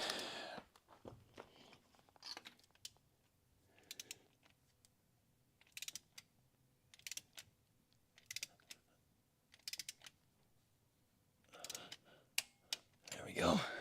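A torque wrench tightens a spark plug on a crew cab Charger, sounding as short bursts of ratcheting clicks spaced by quiet pauses, close and crisp, ending in a louder cluster of clicks.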